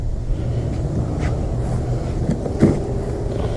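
A steady outdoor hiss and spray of running sprinklers, with low rumbling background noise and a faint clack partway through.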